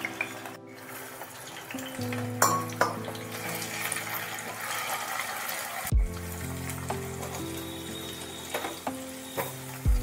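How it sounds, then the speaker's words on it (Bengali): Onions sizzling as they go into hot oil for a dry Bengali aloo dum, a steady loud frying hiss with clatters and scrapes of stirring throughout, no talking. "তেল গরম হয়ে গেছে, এবার আমি পেঁয়াজটাকে এর মধ্যে দিয়ে দেব।"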